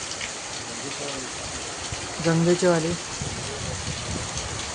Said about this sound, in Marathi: रिमझिम पावसाची सुरुवात झाली आहे बघा.